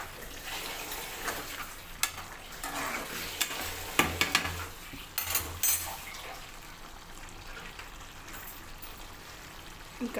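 A potato and tomato curry with chilli powder simmers in a pan as a spoon stirs it through the thickening mix, giving a soft wet sizzle with occasional scrapes and clinks against the metal, fairly quiet and close.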